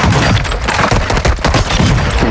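Dense, continuous gunfire from a first-person shooter video game, loud bursts and overlapping shots with booming impacts filling the whole moment, no talking.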